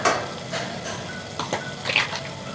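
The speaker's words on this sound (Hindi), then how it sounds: "इसे हम भून लेंगे।" Red chili powder and ground coriander frying in a pan for a chicken and tinda curry, with a steady soft sizzle and occasional clinks and scrapes of a spoon stirring against the pan.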